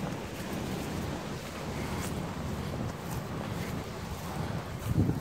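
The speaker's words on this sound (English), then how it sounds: "I'm trying to cut the wind out as much as possible." Steady wind buffets an outdoor microphone in a continuous low rumble for the whole stretch, with a slightly stronger gust near the end and no talking.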